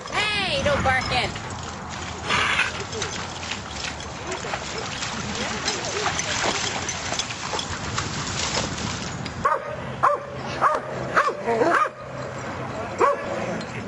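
A dog barks and yips in short bursts at a park beside murky water, mixed with people talking nearby, with sharper bark onsets clustering near the end.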